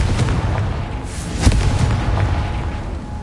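The Confringo blasting spell explodes in a PS4 video game as a deep, heavy boom with a rumbling low-end blast. One sharper burst peaks mid-way, and the rumble trails off without talking.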